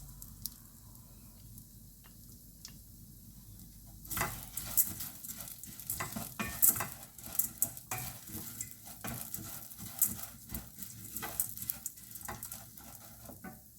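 Orzo salad ingredients are stirred in a pan, with a quiet start giving way to steady scraping, clattering stirs over a soft sizzle that continue to the end.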